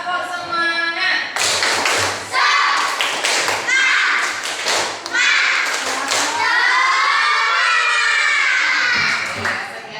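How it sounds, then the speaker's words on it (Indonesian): Children perform a rhythmic spirit-clap cheer in a classroom, bursts of patterned claps and thumps mixed with loud chanting young voices throughout. "Tepuk semangat."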